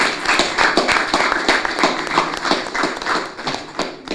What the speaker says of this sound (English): Double clapping.